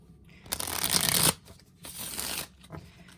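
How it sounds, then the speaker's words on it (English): Druid's Tarot cards being shuffled by hand, two close riffling bursts of papery flutter, the first longer and louder, with a short pause between. "I am going to draw a few of these lovely Druid's Tarot here."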